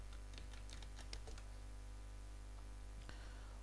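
Quick bursts of keystrokes on a computer keyboard, a cluster of light clicks followed by a pause and a few more taps, heard close over a constant low electrical hum.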